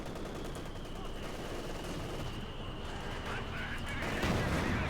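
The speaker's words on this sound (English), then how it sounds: "There you go, mortar on the Panther." Distant mortar and artillery bursts rumble through continuous battle noise from Company of Heroes 2, a World War II strategy game, with a louder blast near the end and a commentator talking over it.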